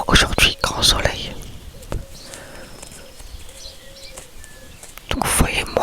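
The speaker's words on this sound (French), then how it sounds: "j'entends le bruit que vous entendez, tous les oiseaux" Birds chirp faintly outdoors in the morning, a few thin calls audible through a quiet stretch, with close whispering before and after.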